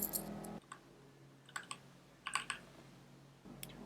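Computer keyboard keys pressed while navigating in the Vim editor: a few soft, quiet clicks in small clusters with pauses between them, close by and with no talk.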